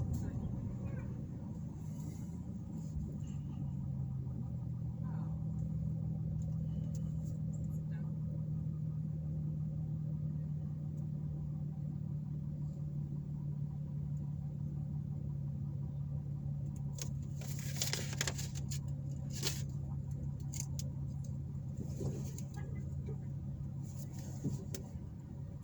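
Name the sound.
car driving around town, interior road rumble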